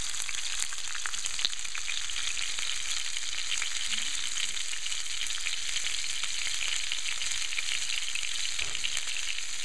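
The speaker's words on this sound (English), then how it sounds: "I'm just going to pick this up and put it right in. And we're just going to sear it on all sides" A beef roast searing in a hot pan before going into a 400°F oven, giving a loud, continuous, even sizzle with a steady hiss throughout and no talking.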